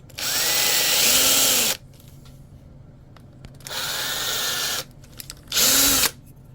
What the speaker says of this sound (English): make sure you don't drill into the flanged area here.